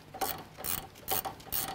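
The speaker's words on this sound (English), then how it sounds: "grab a 16 mil ratcheting wrench and then a 7 mil socket for the hex on top" A 16 mm ratcheting wrench clicks as it turns a nut during a RAM 1500 suspension install, sounding in four quiet, evenly spaced bursts of rapid ratchet clicks close by.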